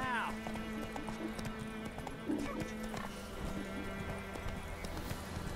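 The horse Roach gallops in The Witcher 3 video game, its rapid clip-clop hoofbeats running steadily, with a whinny at the start, under a voice talking over the game audio.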